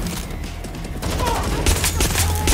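Rapid bursts of gunfire in Watch Dogs: Legion, the Bloodline DLC, dense crackling shots that grow louder and busier partway through, loud and close.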